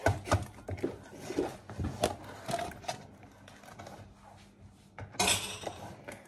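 Utensil scrapes and clinks against a bowl in irregular strokes, a quick clatter near the end, close by with faint background.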